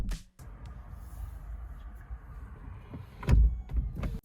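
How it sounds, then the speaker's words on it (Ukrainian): Doors of a Zeekr 001 electric car open and close with a steady low motorized hum, followed near the end by a few close, louder thumps as the doors shut. "З цікавинок це як відкриваються двері і можна виходити. В принципі, так само їх можна і зачинити."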